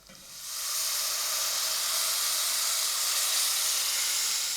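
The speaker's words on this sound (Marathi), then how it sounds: "गॅस मी मोठाच ठेवला आहे म्हणजे मस्त चरचरीत फोडणी बसेल" Spice tempering with turmeric sizzling hard in a hot pan over high gas, a loud steady frying hiss that swells up quickly and holds on its own without talk.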